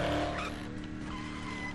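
A car drives and skids in the Dead Island video game, a continuous engine drone with rough tire scraping, loud and steady with no talk over it.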